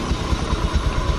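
Honda Beat motorcycle engine idling, a close, loud, steady chugging putter with a slightly rough mechanical clatter, uninterrupted for the whole short stretch.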